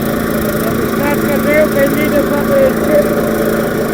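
A small petrol generator engine runs with a steady, rough drone, close and loud, amid market background noise, with no clear talk over it.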